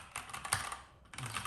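Typing on a Keychron K2 v2 mechanical keyboard with an aluminium frame and hot-swappable Gateron brown switches, a close, dense run of key clacks with a brief pause midway.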